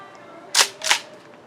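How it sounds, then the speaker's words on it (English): A gas-powered Jag Arms Scattergun airsoft shotgun fires two sharp, hissing pops in quick succession, close by, with quiet surroundings before and after. "Always love a gas shotgun."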